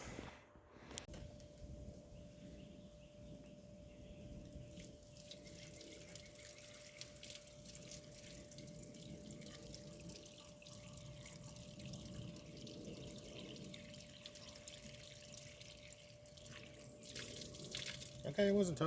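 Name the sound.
filling old Jeep with water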